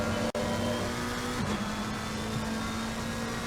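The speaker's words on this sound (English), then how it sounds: "Look at that car." A race car engine drones steadily at high revs in the video game Assetto Corsa Competizione, set on the Misano circuit. The note dips briefly as the car shifts, then holds loud and close.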